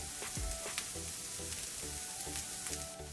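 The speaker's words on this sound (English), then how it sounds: "Just sauteed the onions until it gets softer." Onions sautéing in a pan for okra masala, a continuous close sizzle with short scraping stirs repeating every half second or so, no talking.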